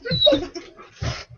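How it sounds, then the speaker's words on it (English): A pet dog, excited during play with a Nerf gun, gives brief whimpering, squeaky vocal bursts in two close groups, nearby and fairly loud. "That's my dog, people."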